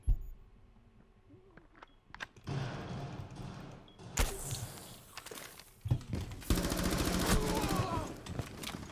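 Rapid gunfire bursts and single shots ring out in a Rainbow Six Siege match, mixed with footsteps, thuds and clattering, getting louder and denser toward the end.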